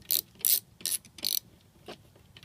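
Four quick bursts of ratcheting clicks, then a fainter fifth, from a ratchet removing the convertible top boot bolt on a Miata, close and crisp with no talk.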